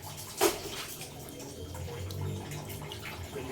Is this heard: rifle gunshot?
no